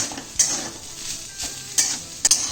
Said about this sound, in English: you have to stir fry this on high flame for at least a minute